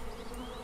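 Cartoon bees buzz in an animated scene, a continuous close droning hum with a slight wavering pitch, heard alone without talk.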